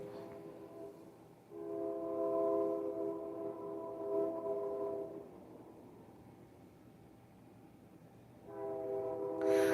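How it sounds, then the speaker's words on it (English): A train horn sounds in long sustained blasts, fading between them, over a steady low rumble of rail traffic nearby. "the train is coming. I don't know if you can hear the train or not"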